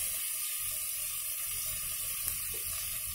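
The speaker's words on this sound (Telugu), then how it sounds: "ఇదిగోండి 2 గ్లాసులు వాటర్ వేస్తున్నాను" Two glasses of water pour into a hot cooking pot of fried peanuts for wheat rava biryani, producing a rushing, hissing splash with sizzling, and a small clink partway through.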